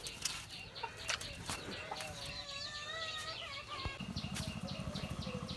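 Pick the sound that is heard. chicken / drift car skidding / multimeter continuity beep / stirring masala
chicken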